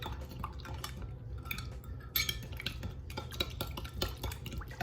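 Sugar being stirred into a yeast mixture in a container for vegan cinnamon roll dough, with a utensil scraping and clinking in quick repeated strokes, close and fairly loud, no voices.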